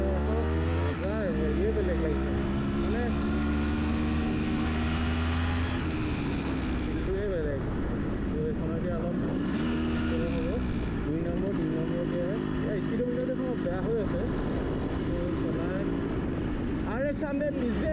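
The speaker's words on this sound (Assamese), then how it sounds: "RX100 লিজেণ্ডাৰী বাইক চলাইছোঁ" A modified Yamaha RX100 motorcycle being ridden, its engine droning steadily with rising and falling pitch as it changes speed, close and continuous for the whole stretch, with a voice heard at times over it.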